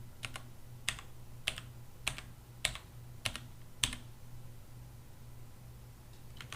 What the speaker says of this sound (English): if I start typing in biology at just a regular typing speed